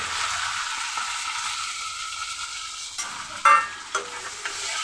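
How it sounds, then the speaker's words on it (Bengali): Bay leaf and chopped ginger frying in oil in a pan, a steady bright sizzle with a few scraping stirs and clinks near the end, no talking. "দিয়ে একটু ভেজে নিচ্ছি।"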